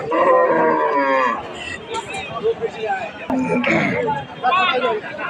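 Cattle, including bulls, moo loudly several times amid busy chatter at a livestock market in Kaharol, with voices talking close by between and over the calls.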